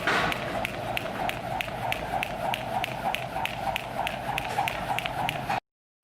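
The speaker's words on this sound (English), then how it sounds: "So today I'm gonna jump rope, and my jump rope looks like this." A jump rope workout, with rapid, steady taps of the rope and feet striking the floor, sounding close and repeating in an even rhythm for about five seconds before stopping abruptly.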